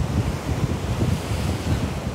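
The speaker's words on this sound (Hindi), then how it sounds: "समुंदर लहर मारता हुआ" Sea waves roll and crash at Nariman Point on the Mumbai waterfront, a loud continuous surge of surf with heavy wind buffeting the microphone and no voices.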